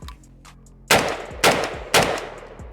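An AK rifle with a Bosnian underfolder stock and a Tabuk muzzle brake fires three loud, sharp shots about half a second apart, each with a short ringing tail, close up and outdoors.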